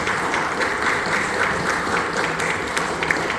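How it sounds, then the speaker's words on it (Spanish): Audience applause at a book-fair conversation event, a steady, moderately loud patter of clapping hands that continues evenly throughout. "un aplauso"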